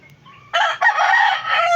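A soft cluck is followed by a loud, close rooster crow that rings out strongly for over a second.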